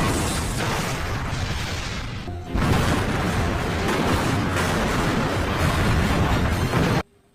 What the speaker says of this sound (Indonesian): tiba-tiba pabrik itu langsung meledak